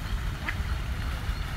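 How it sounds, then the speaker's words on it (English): A duck quacks beside the water in Paris, a short call standing out over steady outdoor ambience and low rumble. "I wish I knew duck. I could understand what he was saying. But he's talking a lot"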